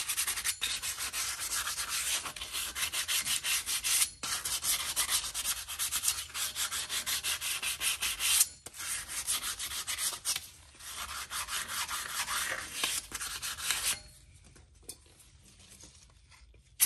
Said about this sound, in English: Take a little bit of sandpaper,